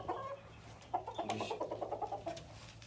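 Cochin bantam chickens clucking close by in a quick run of repeated throaty calls, following a short softer cluck at the start.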